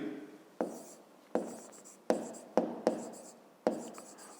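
A pen writes a math equation for a fifth-grade exercise on paper, six or seven quick separate strokes, each a sharp scratch that trails off, close and fairly quiet, with no talking.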